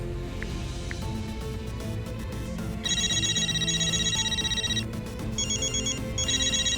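A phone rings with an incoming call, an electronic ringtone in repeating bursts that start partway through and sit over music and background sound in a French drama scene.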